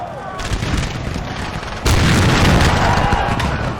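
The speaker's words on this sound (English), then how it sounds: "The Izmailovsky have just been shooting." Dense battlefield gunfire from a Napoleonic-era Russian Grand Battle melee in a video game, continuous volleys and booms filling the soundscape and growing louder partway through, with a voice talking faintly over the din.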